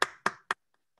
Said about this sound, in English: Please give a big round of applause for all our panelists.